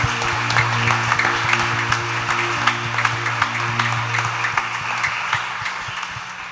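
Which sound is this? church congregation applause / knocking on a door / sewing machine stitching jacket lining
church congregation applause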